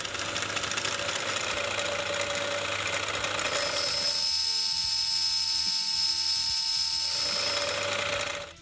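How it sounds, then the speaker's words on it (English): Face mill taking light cuts across a part clamped in a mill vise while making a tap wrench, a steady close machining drone with a high whine and a broad hissy cutting layer that cuts off abruptly near the end. "I'll take really light cuts with the face mill to bring it down to flat"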